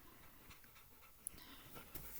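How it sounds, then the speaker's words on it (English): A pet dog panting softly in the background of a quiet room, faint rhythmic breaths with a couple of small ticks, no talking. "that's my dog panting in the background there."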